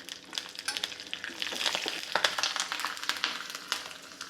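Curry leaves hit hot oil for a tempering with cumin and white sesame seeds, giving a steady close sizzle with frequent sharp crackles and pops that rise and fall throughout, with no voices.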